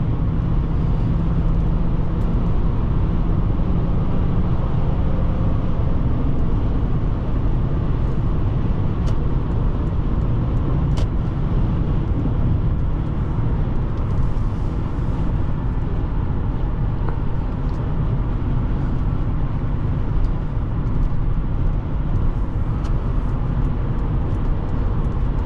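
A 1995 Lexus LS400 heard from inside while it drives along a road, a steady, loud broadband rumble of road and engine noise that holds without a break.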